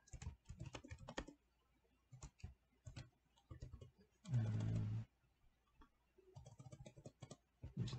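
Keys clatter on a computer keyboard in quick bursts separated by short pauses, close and fairly faint, with a brief louder rustle or shuffle in the middle.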